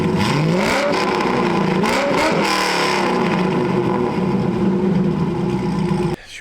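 A Chevrolet Corvette C6 fitted with long-tube headers revs up sharply a few times, then holds a loud, steady engine roar before abruptly cutting off near the end.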